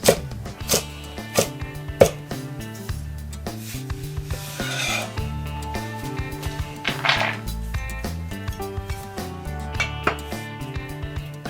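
A knife chops carrots into similar-sized pieces with a steady run of short, crisp knocks on a board, partly masked by continuous melodic background music.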